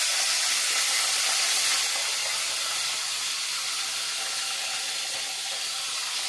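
Dried fish frying in hot oil gives off a loud, continuous hissing sizzle, strongest at first and then settling to a steady crackle.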